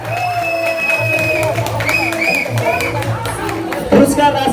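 Loud audience applause and cheering at an award ceremony in Butwal, a sustained crowd roar with clapping layered over a steady low hum and a brief louder burst near the end.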